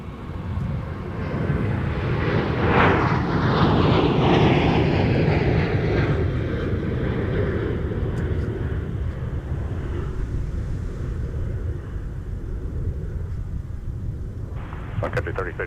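Prime Air airliner taking off from runway 30 left at MSP airport in winter, a loud sustained jet engine roar that swells and then slowly fades as it climbs away.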